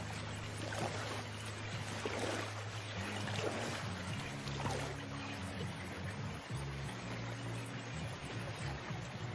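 A rowing boat glides across water in a Bengali cartoon, with soft, continuous lapping and splashing under steady background music throughout.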